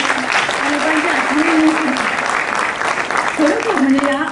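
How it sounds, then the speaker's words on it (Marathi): Steady audience applause at a lounge talk event, a dense, even wash of clapping that runs the whole time while a voice speaks over it at moderate loudness. "या टाळ्या त्यांच्यासाठी"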